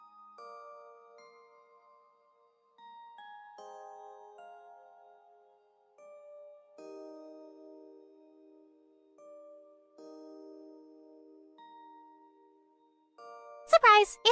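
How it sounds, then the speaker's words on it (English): Bright metallic ring near the end of a video game scene, a short burst like a bicycle bell, following sparse tonal game music with no talk. "I was the rude person with the bike bell."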